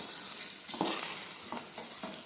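Onions frying in hot oil for chicken curry, a close, even sizzle with a few soft stirring scrapes.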